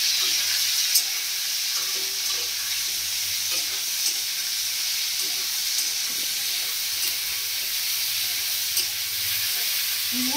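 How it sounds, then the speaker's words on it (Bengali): Onion and tomato frying in a pan for rohu fish curry with raw banana, giving a steady, close hissing sizzle throughout with occasional faint clicks of a utensil. "3-4 মিনিট মতো ভেজে নেবো পেঁয়াজ আর টমেটো দিয়ে।"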